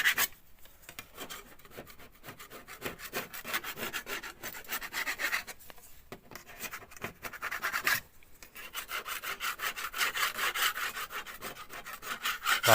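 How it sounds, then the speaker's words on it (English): Scraper rasping loose paint off a patched plaster wall in rapid repeated strokes, close and steady with a few brief pauses, no talking. "So the edge that's still loose, I'll just keep scraping till it tightens up again."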